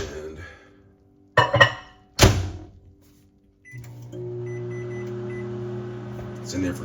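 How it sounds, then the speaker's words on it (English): A kitchen microwave oven starts up after a bowl of stirred eggs goes in for two minutes: clinks and a door thud, then a steady low running hum with a faint whir. "I'm putting this in the microwave for 2 minutes."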